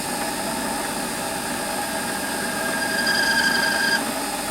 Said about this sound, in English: stop the lathe, put it in reverse, and I should be able to just count the bore with a little countersink